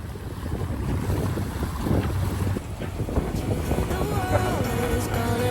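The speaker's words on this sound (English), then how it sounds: "we were only able to motor because our sails need some love" A sailboat motors under engine power at about five knots in early morning, with a steady low engine drone blended into constant wind buffeting and washing water, continuous and fairly loud throughout.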